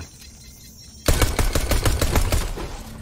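Rapid gunfire erupts in Fortnite after a quiet second, a loud burst of many sharp shots in quick rhythmic succession that carries on to the end.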